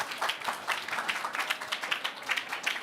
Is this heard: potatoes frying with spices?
no